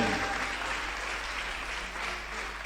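A church congregation applauds steadily for a few seconds, dense sustained clapping filling the room with a faint voice underneath.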